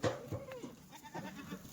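A Kathiawari sheep bleats faintly a few times in a quiet outdoor setting, short wavering calls with soft background noise.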